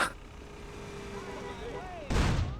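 A single loud shotgun blast in the GTA video game, erupting near the end after a stretch of quiet in-game ambience.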